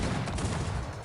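Cannon fire from the video game Cossacks 3 in a large battle, a brief dense rumble of overlapping booms heard in a short burst with no speech.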